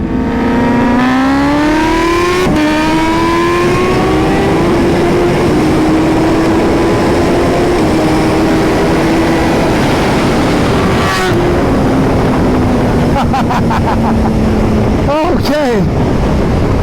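A carbon-bodied Suzuki Hayabusa and a Kawasaki Ninja H2 race flat out, one engine roaring loud and close as its pitch climbs and drops through gear changes, then the howl rises again in sharp bursts near the end.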